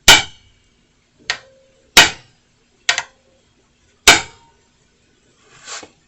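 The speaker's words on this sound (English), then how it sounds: "and then you just hammer down" Hammer blows strike a manual impact driver on a seized filler or drain bolt of a Johnson outboard gearcase: five sharp metallic clanks spaced irregularly with quiet between, plus a softer scraping knock at the end.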